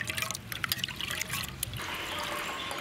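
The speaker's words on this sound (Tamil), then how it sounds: "புளி கரைச்ச தண்ணியும் இந்த தக்காளி வேக வச்ச தண்ணியோடய ஊற்றிட்டோம்." Tamarind water trickles and pours into a vessel of cooked tomato water for rasam, a light, uneven splashing stream in a quiet kitchen setting, fairly close and soft.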